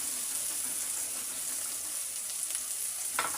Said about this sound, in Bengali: চিংড়ি মাছ দিয়ে ভালোভাবে নেড়ে চেড়ে কষিয়ে নেব।